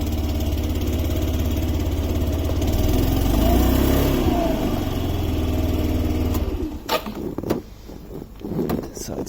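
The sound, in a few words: Yamaha Majesty 125 scooter engine idling after cold start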